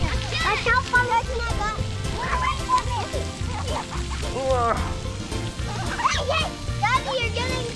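Water splashes onto kids at a summer play spot, a constant wet spray and splatter running under loud, excited children's chatter and an adult's voice.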